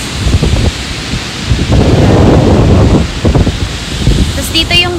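Heavy surf rolls and crashes under gusting wind on an open beach in Bentota, Sri Lanka, loud and close, with a voice speaking briefly near the end.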